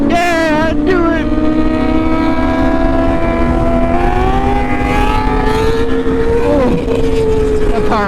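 A motorcycle engine howling through a power wheelie, a loud close sustained drone whose pitch climbs and dips with the throttle, with a voice briefly audible at the start.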